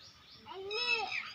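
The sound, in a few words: cat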